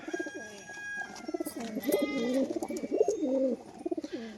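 A black-bodied, white-laced Jack crested pigeon hen coos close by in a series of rhythmic, throaty rolling calls with brief pauses between them.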